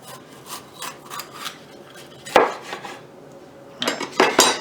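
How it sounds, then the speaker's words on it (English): A kitchen knife trims around the outside of a bell pepper on a cutting board, giving a few short rasping cuts and board taps, with a louder cluster of cutting near the end and no talking. "I'm going to kind of just trim around the outside and cut it off like that"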